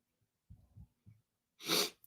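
A single loud, close human sneeze follows a few quick, sharp inhaling breaths, with nothing else heard.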